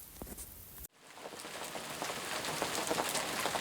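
Steady rain pattering on surfaces outdoors in a rural village, a dense even hiss that builds after a brief cut, close and continuous with no voices.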